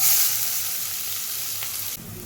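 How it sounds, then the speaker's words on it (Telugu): Onions dropped into hot oil with tempering seeds for a Telugu methala curry sizzle and crackle steadily and fairly loudly, with a brief shift near the end as the pan is stirred. "నెక్స్ట్ ఉల్లిపాయలు వేసుకుందామమ్మా."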